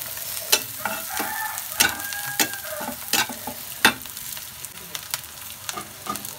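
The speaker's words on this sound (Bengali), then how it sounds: "এখন আমার ঝাল পেঁয়াজ ভাজা হয়ে গেছে" Onions and chillies frying in a pan, giving a continuous sizzle under repeated sharp clacks and scrapes of a spatula, close and fairly loud.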